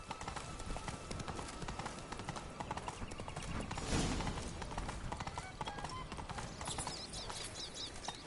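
Geralt's horse Roach gallops in The Witcher 3, a fast, continuous drumming of hoofbeats up close with a brief heavier thud midway and faint game ambience beneath.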